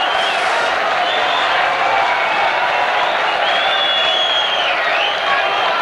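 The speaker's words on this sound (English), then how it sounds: "Loads of applause for that try" Rugby league crowd at a Sheffield v Warrington cup match in 1985 applauds a try, a steady loud wash of clapping and cheering from many spectators with a few whistles rising over it, sustained throughout.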